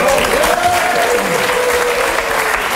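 Steady studio audience applause on a French TV show, loud and continuous throughout, with faint voices murmuring underneath.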